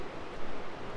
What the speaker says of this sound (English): Get a little ocean noise going.